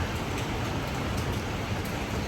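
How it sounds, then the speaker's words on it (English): Steady heavy rain pours down in a dense, constant hiss with no letup. "the water bounces off and just makes the rain sound worse"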